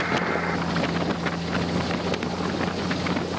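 A light aircraft's piston engine holds a steady loud drone during a ground runup, with wind buffeting the microphone throughout and no talk.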